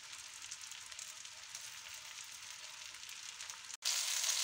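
Swedish meatballs brown in a frying pan with a steady, even sizzle and hiss that cuts out for an instant near the end, then comes back louder.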